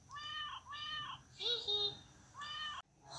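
A cat meows several times in a row, drawn-out nasal cries close by with a short pause between them, in a quiet indoor room.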